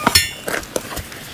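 A hammer strikes a welded steel pipe in a quick burst of four or five sharp metallic clanks, close and fairly loud, with no talk.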